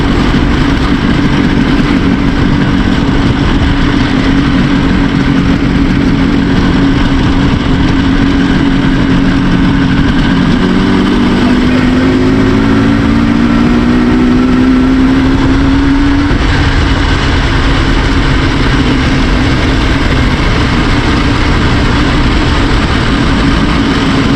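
A tuned IZh Jupiter 4 motorcycle engine runs in fourth gear on a winter ride, a loud, continuous two-stroke drone with wind rush that rises slightly in pitch midway.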